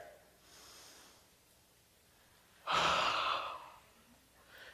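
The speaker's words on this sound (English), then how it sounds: "the first thing that we've got to do is to take a very deep breath" A single very deep breath, a long, loud inhale-exhale rush in the middle, preceded by a softer breath, close to the microphone with no talk.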